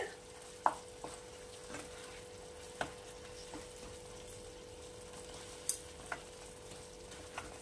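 Chopped coriander is stirred into a bottle gourd (lau) dish in a pan, with a spoon giving faint scattered taps and scrapes over a soft steady sizzle.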